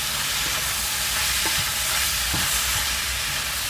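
Ackee tipped into a hot pan of smoked salmon fried rice sets off a steady, hissing sizzle, with a few soft thuds and scrapes of stirring over the constant frying noise.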